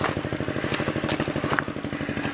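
A tractor engine preparing a rice field for planting chugs steadily with a rapid, rhythmic low thrum, sounding some distance off, with faint rustling on top.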